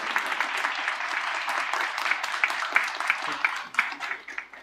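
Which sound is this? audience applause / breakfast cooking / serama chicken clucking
audience applause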